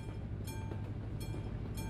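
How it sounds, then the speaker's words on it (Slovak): A train rolls through a rail crossing in the Euro Truck Simulator 2 truck driving game, a steady loud rumble with periodic clacking of wheels over rail joints, no talk. "Kedy prejde ten vlak?"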